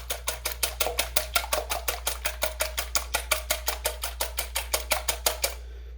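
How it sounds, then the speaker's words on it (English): Eggs whisked briskly in a bowl for scrambled eggs, a fast, even run of sharp clinking strokes close up that stops near the end, with no one speaking. "I like to kind of lift my eggs up out of the bowl, get them nice and aerated as I whisk them"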